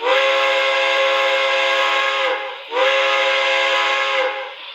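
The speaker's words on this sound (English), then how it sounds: "just to show off some of that whistle steam" Steam whistle of an MTH PS3 P47 Pacific model train, a loud, rich chord-like blast sounded twice in long sustained tones, the second following a brief dip, with no talk.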